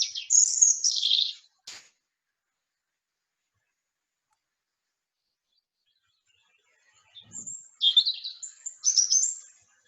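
A tiny songbird delivers a strong, vigorous song in two bright, rapid phrases separated by a long silence, heard clearly and alone.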